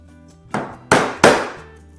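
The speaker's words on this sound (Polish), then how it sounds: "żeby sobie wzdłuż włókien naciąć to również dłutem" Chisel struck into an oak table along the grain: three close, hard mallet knocks in a row, each a bright, clear impact that rings briefly, heard alone against a quiet room.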